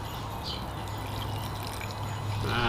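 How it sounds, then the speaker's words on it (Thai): Water pours steadily into a pot of Thai-style boiled free-range chicken soup, a continuous close splashing stream that stays even and fairly quiet throughout, with no voices. "ใส่น้ำเข้าไปนะครับน้ำซุป"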